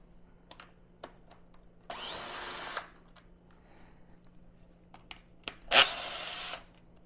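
Power tool with an 8 mm socket backing bolts off a 2024 Yamaha YZ450FX supermoto, two short whirring bursts separated by quiet clicks and handling of parts.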